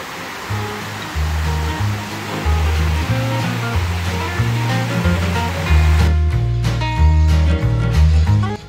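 Waterfall cascade in a park in Gramado, seen from the top of the falls, giving a steady broadband rush of falling water with no speech, while a low, pulsing tonal layer runs underneath throughout.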